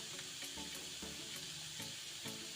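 Onions fry in a pan with turmeric powder, Kashmiri red chili powder and coriander powder for a cashew curry. The sizzle is soft, constant and faint, with light stirring, and no voices are heard.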